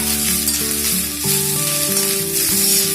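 Veg hakka noodles stir-frying on high heat in a street-style pan, a steady loud sizzle running throughout with background music playing over it.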